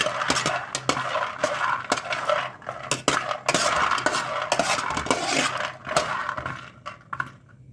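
Peanuts and chana dal are stirred in a hot pan with a spoon, making loud clinking and rattling scrapes of hard grains against metal in quick, irregular bursts that continue steadily, with no voices.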